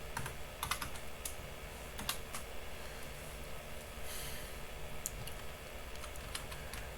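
Python code is typed on a computer keyboard in brief uneven bursts of crisp key clicks, quiet and close over a low background hum.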